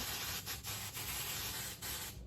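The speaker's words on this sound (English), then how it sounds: "is spray hairspray all over, because I actually want my wig to lay super flat" A continuous hiss of an aerosol spray with short breaks, as if the can is being pressed in several bursts.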